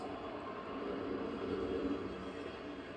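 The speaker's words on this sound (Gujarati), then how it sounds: "ટ્રેનનો વોઇસ છે, કારણ કે મારા ઘરની પાછળથી ટ્રેન જાય છે" A train running on the tracks behind a house, a steady distant rumble and rolling roar heard at low level without speech.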